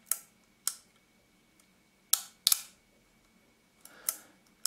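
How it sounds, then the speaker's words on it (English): A Yashica-44 twin-lens reflex camera with a 60mm lens, its repaired shutter fired repeatedly: a series of sharp, close mechanical clicks, some paired, separated by quiet gaps. "I can fire this shutter."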